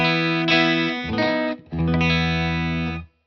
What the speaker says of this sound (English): So just a little bit of clipping, a little bit of compression from that clipping